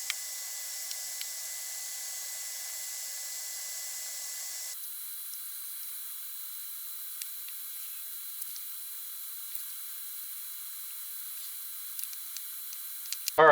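Oil sprays steadily into the shock absorber of a Polaris Scrambler 400 ATV, a continuous close hiss that shifts slightly in tone partway through, with a few faint ticks on top.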